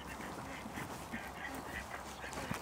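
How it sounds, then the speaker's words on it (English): Ducks at a garden centre quack in a scattered run of short calls, moderately near amid a busy outdoor wash of background noise. "There's ducks."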